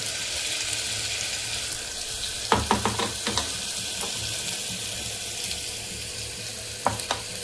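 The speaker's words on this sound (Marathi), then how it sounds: "यामध्ये मी हा जो मसाला बनवून घेतला होता ना आता तो टाकत आहे" Homemade masala goes into a hot pan for mutton, with a steady hiss of frying broken by a cluster of spoon clinks and scrapes, then a couple more taps later on.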